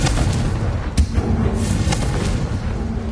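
A Confringo blasting spell explodes in Hogwarts Legacy, a sharp boom near the one-second mark rising out of a dense, rumbling game soundscape that stays loud throughout, with a fainter second burst later.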